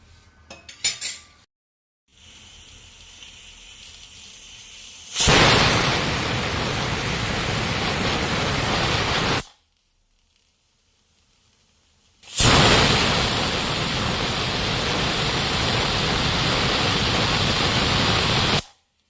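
A pressure cooker whistle blasts twice, each a loud, sustained rush of hissing steam lasting several seconds, separated by a brief quiet gap.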